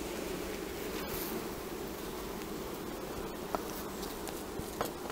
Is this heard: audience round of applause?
no